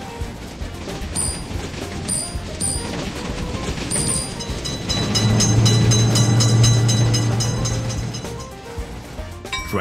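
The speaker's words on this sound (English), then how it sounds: "Attention, train is coming." A train in a railway crossing video game rumbles past with rhythmic clattering wheels, swelling louder mid-clip and then fading, with faint metallic high-pitched tones above.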